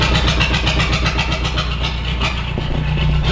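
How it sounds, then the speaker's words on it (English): A Mark V car's diesel engine, which has no glow plugs, cranks and runs loud and close, a steady rapid chugging rhythm throughout with no talking. "we're gonna hop into the Mark V, and we're gonna start her up"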